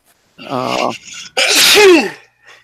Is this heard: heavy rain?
no